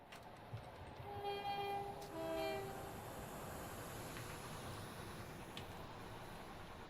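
Trains pass nearby at night, a low broad rumble with a faint horn or tooting tone early on, moderately distant and steady, with no talk over it.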